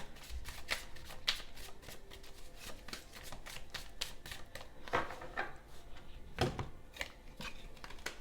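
Tarot cards being shuffled by hand, a run of quick, crisp riffling flutters and soft slaps repeating in uneven bursts, close but fairly quiet, with no voice over them.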